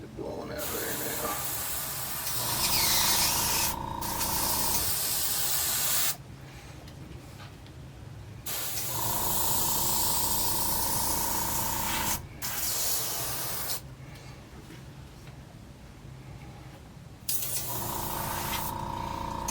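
Spray gun applying a top coat to a custom painted saltwater popper fishing lure, hissing in several long bursts separated by short pauses, close and fairly loud.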